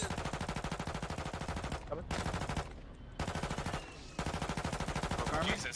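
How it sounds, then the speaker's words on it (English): Video game automatic gunfire sprays rounds in long, rapid, continuous bursts broken by short gaps, loud and close, with faint voices in the background. "How many hundreds of rounds of ammo did you spray at that guy?"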